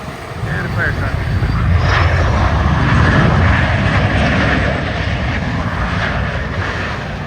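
An MD-80 jet airliner with rear tail-mounted engines roars steadily overhead, a loud broad rumble that holds for several seconds before easing slightly.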